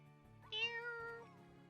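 A person imitates a cat, voicing one drawn-out, rising and falling meow close to the microphone over a low background hum.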